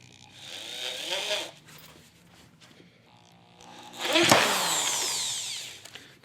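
A cheap Hyper Tough corded drill driving a 3-inch screw into wood, with two bursts of whining motor and grinding screw, the second louder and rising in pitch, separated by a short pause.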